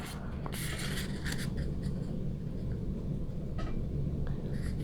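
Origami paper folded in half for an angel model, giving soft crisp rustles and scrapes, close and quiet, clustered near the start and then trailing off into a few light rubs.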